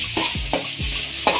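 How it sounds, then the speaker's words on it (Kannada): Ivy gourd (tondekai) pieces fry in oil with a continuous close sizzle, while three or four sweeping spatula strokes scrape and toss them in the pan at an unhurried pace. "ಈ ರೀತಿ ಎಣ್ಣೆಯಲ್ಲಿ ಚೆನ್ನಾಗಿ ಫ್ರೈ ಆಗಬೇಕು."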